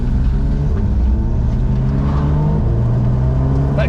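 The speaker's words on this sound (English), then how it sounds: "That gear change is unbelievable." Porsche 911 GT3 RS Weissach accelerating hard, its engine note climbing then dropping sharply at a gear change before pulling again, loud and close from inside the cabin.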